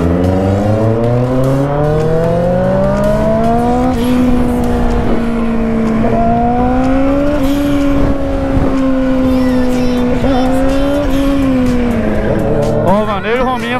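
Yamaha XJ6 motorcycles accelerating hard on an empty street, loud rising engine whine climbing through the gears with steady roaring revs close by, ending in a burst of higher revving.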